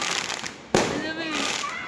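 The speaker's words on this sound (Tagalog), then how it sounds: "Fireworks! Woo! Yeah! Fireworks!" Fireworks burst at a New Year celebration: one sharp, loud bang, then a sustained crackling roar. Excited voices cheer and shout throughout.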